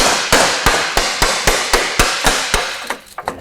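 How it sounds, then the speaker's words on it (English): A mallet strikes a seized wheel hub on a 1990s Subaru Impreza in steady, evenly spaced sharp metallic blows, about nine in a row, close and loud, then a few quicker, lighter taps. "I want a mallet. Mallet. To try and free this off there."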